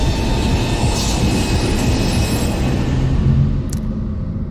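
Steady rumbling train ride from a video game, a continuous loud rolling roar of carriage and wheels throughout, with a brief high squeal near the end.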